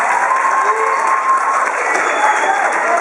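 Steady audience applause at a college engineering quiz game show, a dense continuous clapping from a crowd filling the whole stretch.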